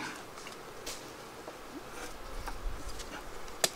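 Honeybees hum in a steady, faint drone around an open hive troubled by small hive beetle larvae, with a single sharp click near the end.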